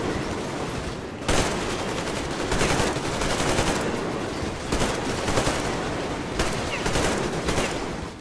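Continuous automatic gunfire from Metro Exodus rattles on at close range, with a sharp burst near one second and repeated surges of rapid shots throughout, with no voices.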